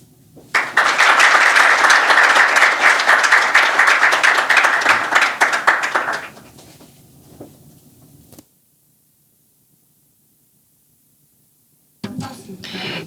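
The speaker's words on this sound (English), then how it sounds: "I'd like to ask for another round of applause to Permanent Secretary Jeremy Pocklington." An audience at a debate on the power market and clean energy bursts into loud, dense applause that lasts about six seconds before fading into near silence. A voice starts speaking right at the end.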